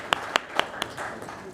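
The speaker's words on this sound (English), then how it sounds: "Let's give a generous round of applause for him as well." A few scattered claps sound at a panel session during an AI conference, four distinct, evenly spaced hand claps standing out over a faint room background.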